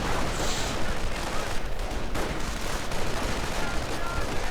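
Dense, continuous gunfire and explosions from a real-time strategy match where riflemen clash with grenadiers, a loud rolling barrage with sharp cracks, heard under a commentator's excited speech.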